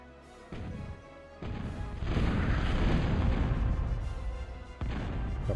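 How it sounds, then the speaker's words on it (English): Heavy explosions as bombers are shot down in the real-time strategy game Total Annihilation: a loud, rumbling burst of booms and crashes that swells from the midpoint and stays dense before easing, with no talking. "Kaboom."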